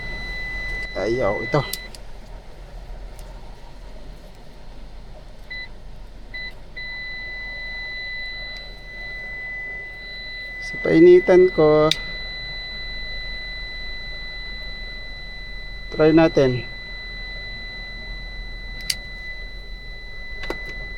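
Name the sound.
buzzer beeping in a Toyota FJ Cruiser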